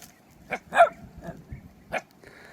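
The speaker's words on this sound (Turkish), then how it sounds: "Sokak köpekleri." Stray street dogs bark outdoors near a dump, a few short, sharp barks spaced irregularly at moderate distance over quiet background.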